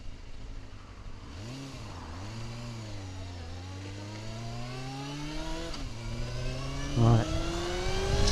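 Yamaha FZR400RR motorcycle engine revving up and down through several swells, a steady mid-pitched growl climbing toward a sharper blip near the end, close and loud with a brief spoken word.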